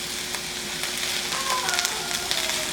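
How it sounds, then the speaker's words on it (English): Mixed vegetables, including onions and peppers, sautéing in a pan for a spiced shrimp stew, making a steady, close, crackling sizzle with light stirring noises and no voices. "I put all the veggies in here, like you saw me, and I'm just going to saute these up"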